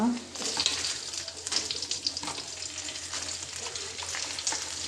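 Cumin, mustard seeds, black pepper and dry chilli crackling in hot oil in a clay pot for fish curry, a continuous soft sizzle with scattered pops and spatters, fairly quiet and close.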